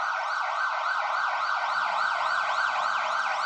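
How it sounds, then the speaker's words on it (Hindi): An ambulance siren wails in a steady, rapidly repeating up-and-down sweep. It stays loud and close the whole time, with no talk over it. "एम्बुलेंस बहुत आगे चली गई है"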